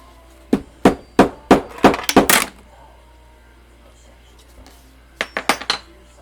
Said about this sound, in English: I think you're gonna get scared when you start hearing me hammer.